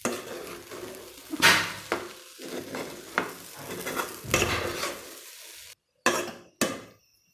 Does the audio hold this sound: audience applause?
no